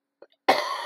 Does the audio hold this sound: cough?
yes